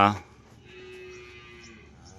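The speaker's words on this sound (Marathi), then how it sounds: "बादशाह गाय निघाली का" A cow on an Indian farm with bullocks gives a single loud, close moo that breaks off quickly, leaving a quiet room tone with a faint, drawn-out tonal hum afterward.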